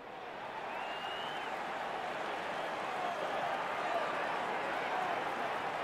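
A golf gallery in EA Sports PGA Tour breaks into steady applause and cheering, a broad wash of clapping that holds at moderate volume throughout.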